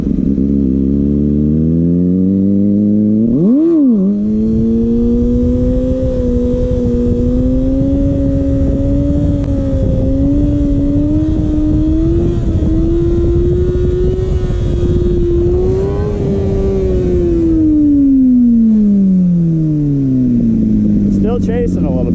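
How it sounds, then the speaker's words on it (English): A Kawasaki ZX6R sport bike engine drones loudly and steadily for a long stretch. Near the start it revs up sharply once, and toward the end the pitch swells and then falls away. Wind noise runs underneath throughout. "I think I'm going to do a couple of wheelies down here"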